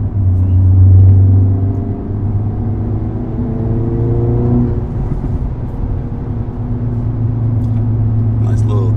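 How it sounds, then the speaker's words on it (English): Acura Integra Type S engine revving with turbo noises, a throaty idle rising and falling through a few mid-range revs with faint turbo whooshes, under a speaking voice. "Nice little turbo noises going on."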